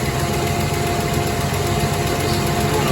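A Holden Torana engine running with its carburettor being tuned by ear, a steady loud buzzing drone held at a raised idle with no pauses.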